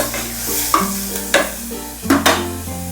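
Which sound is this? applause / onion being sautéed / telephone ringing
onion being sautéed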